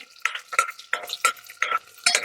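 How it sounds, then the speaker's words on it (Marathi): A spatula scrapes and stirs veg pulao ingredients around a pan in about six rhythmic strokes, each with a faint metallic ring and a light sizzle. "आता ह्याला एक मिनिट परतवून घ्यायचं"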